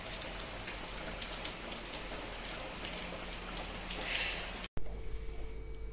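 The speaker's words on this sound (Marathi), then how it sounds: "तर आमच्या इथं पाऊस आलेला आहे।" Rain pours down outdoors as an even hiss of drops striking surfaces, continuous and alone, then cuts off abruptly near the end before a quieter wash of rain resumes.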